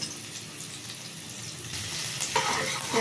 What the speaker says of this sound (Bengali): পেঁয়াজটাকে একটু বেশ বাদামি কালার করে ভেজে নেব